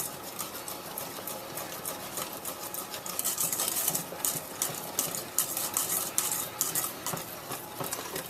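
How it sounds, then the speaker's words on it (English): A metal whisk stirring fudge in a metal pan, a continuous rapid scraping and clinking that runs unbroken and grows a little louder partway through, with no talk over it. "I always use a metal whisk to make sure that I'm actually scraping the bottom of the pan"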